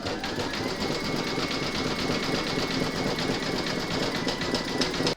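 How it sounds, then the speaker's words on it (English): A sewing machine runs steadily, zigzag stitching around the edge of a fabric piano coaster, giving a fast, even mechanical whir and rapid ticking throughout at close range, with no voices, stopping abruptly at the end. "you're now going to stitch round number 12, and that's going to zigzag the edge of your coaster"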